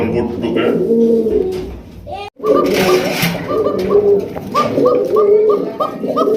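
Pigeons coo loudly and close by in repeated throaty, rolling calls, with a brief break midway before the cooing resumes and overlaps, while a person talks underneath.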